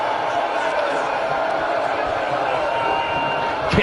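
A wrestling crowd at an MVWF B2 Climax Tournament show, a dense wash of arena noise and scattered shouts under a commentator's talk, with a sharp thud near the end.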